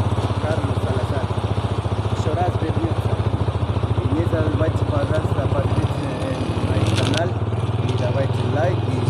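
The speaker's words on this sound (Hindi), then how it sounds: "इससे ज़्यादा मैं बाइक को भगा नहीं सकता, जोर नहीं डाल सकता, क्योंकि क्लच प्लेटें भी डलवाई हैं।" A motorcycle fitted with new clutch plates is ridden gently on a sunny road beside a river, its engine chugging steadily up close with a brief dip near the middle, and a rider talking throughout.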